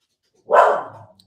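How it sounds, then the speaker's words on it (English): One short, sharp dog bark goes off in a quiet room and fades quickly, with nothing else heard around it. "And if you hear my dog in the background,"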